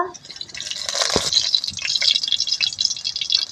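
Cooking oil is poured into a hot pan before frying greens, giving a close, trickling and sizzling hiss that rises after a moment and crackles on unevenly for a few seconds.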